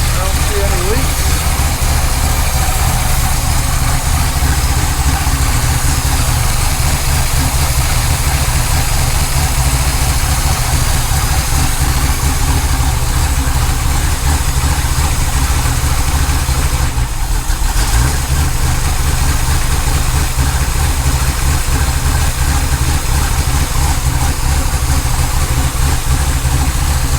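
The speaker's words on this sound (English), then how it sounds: "Well, we just got our little 306 running." A Ford Fairlane's small 306 V8 idles steadily and close by, a continuous low rumble with an unadjusted carburetor, running unbroken throughout.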